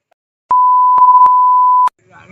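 A single steady electronic beep tone signals a phone call cutting off; it holds for over a second, fairly loud and close, with faint speech starting just after.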